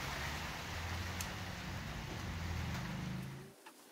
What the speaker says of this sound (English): the rain got so loud on the tin roof that I couldn't even hear myself think